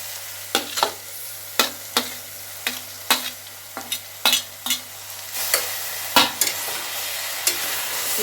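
Bitter gourd curry fries in a pan just after chopped tomato goes in, with a soft steady sizzle under a series of sharp, regular spatula scrapes and taps against the pan.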